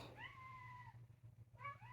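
A pet cat lets out two clear meows, a long drawn-out one and then a shorter one, close by, over a low steady hum in a quiet room.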